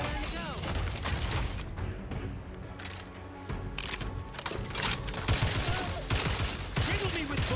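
In a video game, a player is struck by rapid bursts of gunfire. The clatter of shots and impacts comes mixed with game effects and a talking voice, with the firing dense at first, then briefly thinning before picking up again.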